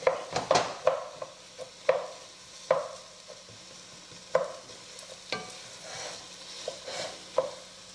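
Red lentils being stirred in a pot, a spoon scraping and knocking against the sides in irregular close strokes, with quiet shuffling of grains between the louder clinks.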